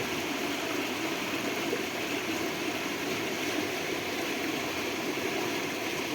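Heavy monsoon rain in Vejalka with water rushing and flowing, a steady dense broadband roar with no breaks, loud and constant throughout.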